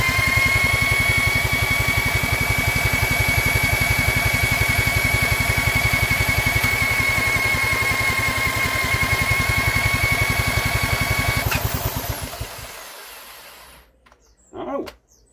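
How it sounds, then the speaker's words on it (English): A small governor-controlled engine runs at an even, steady speed for about twelve seconds, then slows and sputters to a stop. "this is a governor controlled engine"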